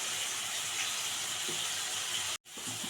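Marinated fish frying in oil in a pan, a steady close hiss and sizzle that carries on without a break apart from one sharp dropout near the end.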